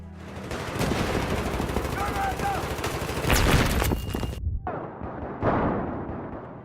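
Rapid bursts of automatic gunfire crackle with explosions and booms in a chaotic Battlefield 4 battle soundscape, continuous and loud, briefly cutting out before resuming.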